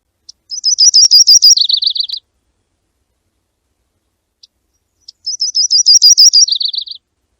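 A yellow-rumped warbler sings twice, each phrase a bright, musical two-part trill with a quicker second section, sounding loud and close with a clean pause between the songs.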